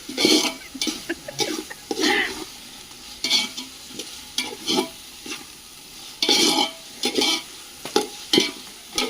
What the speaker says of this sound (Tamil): கல்லுப்பு சேர்த்து நல்லா வதக்கி விட்டுருதாங்க